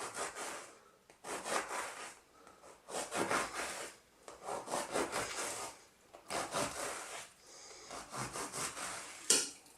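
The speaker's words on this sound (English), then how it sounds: "So I've got a bit of baguette. We're going to cut it down, but not all the way down." Bread knife sawing through a crusty baguette, rasping broadband strokes in several bursts with short pauses, close and fairly loud, part of making garlic bread in a kitchen.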